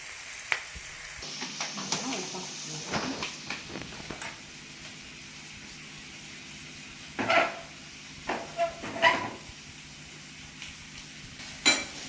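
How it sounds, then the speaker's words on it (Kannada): Onions frying in a pan alongside prawns, a low steady sizzle underneath with a few bursts of stirring and scraping clatter spread across the stretch, fairly quiet and with no one talking. "ಈರುಳ್ಳಿ ಹಾಕಿ ಎರಡನ್ನೂ ಫ್ರೈ ಮಾಡ್ಕೊಳ್ಳೋಣ"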